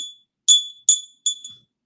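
A small black cast iron bell with white porcelain rings in four crisp strikes close by, each bright ping decaying quickly into silence.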